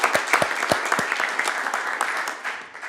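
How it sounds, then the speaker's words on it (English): An audience at a community college district board meeting claps for newly elected board trustees, a dense burst of applause with a few sharp near claps at first, then a steady even patter. "Let's give them a round of applause."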